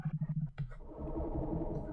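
A boom sound effect played back slowed down in Scratch, first a quick run of pulsing low thumps, then a long, dense, rumbling low drone that sustains to the end.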